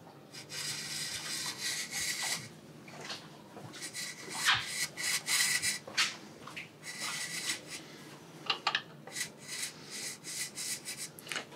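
An abrasive cutting disc works slowly through metal under spring tension, giving a quiet, uneven rasping and grinding that comes and goes in short bursts, with no voices over it.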